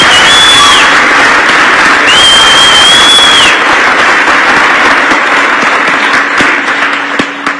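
An audience claps loudly and continuously, a dense wash of applause with a few whistles, easing off slightly toward the end.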